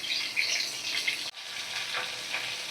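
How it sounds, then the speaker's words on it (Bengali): Pieces of kat koi fish fry in a little oil in a pan, a steady bright sizzle with crackling spatters and one brief break partway through. "সব মাছের এক সাইডটা ভালো করে ভাজা হয়ে গেছে।"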